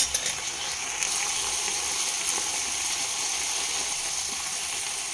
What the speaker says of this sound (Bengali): ওই বাটিতেই 1 টেবিল চামচ জল দিয়ে ধুয়ে দিয়ে দিলাম।